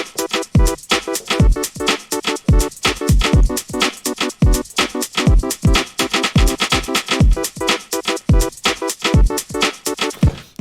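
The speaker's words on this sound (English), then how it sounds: "what you're hearing here is this arpeggiator running over a pattern" A synth arpeggiator in Ableton Live, driven by the Cthulhu plugin, chops chords into a rapid, steady stream of short bright notes with punchy low hits, looping in a tight repeating pattern.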